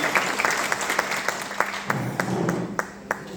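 Loud, continuous applause from a crowd at a cement sheet company meeting in Gaya, Bihar, with dense clapping that fills the whole stretch and fades slightly near the end.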